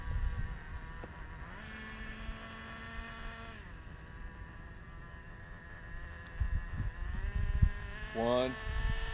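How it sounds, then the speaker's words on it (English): A Traxxas Slayer Pro nitro 4x4 RC truck engine whines steadily with a buzzing, boat-like tone. Its pitch steps up and later drops back as it shifts gears, with a sharper rising rev burst near the end. "I think I heard it shift into that other gear."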